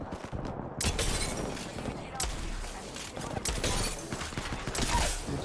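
Bursts of video game gunfire crackle in a dense, continuous volley, with sharp cracks recurring throughout amid busy game noise and some voice.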